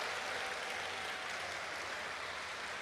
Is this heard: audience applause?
yes